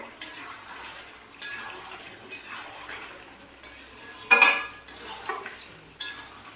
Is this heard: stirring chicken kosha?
yes